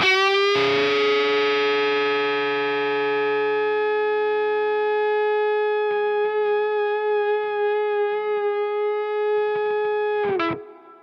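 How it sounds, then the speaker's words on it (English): A sustained, heavily distorted electric guitar note through a vintage Fender amp rings steadily, then swells into feedback before cutting off abruptly near the end. "so it did start to feed back then because I'm a little bit louder."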